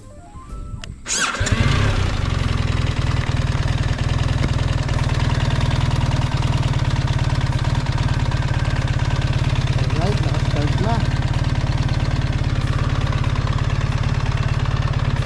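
A 2024 BMW R 1300 GS Option 719 motorcycle cranks and catches on a roadside by a lake, then settles into a loud, steady, throbbing idle close by, with someone talking over it.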